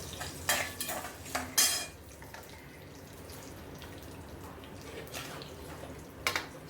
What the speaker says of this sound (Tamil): வறுத்துக்க வேண்டியதுதான் எல்லாத்தையும்.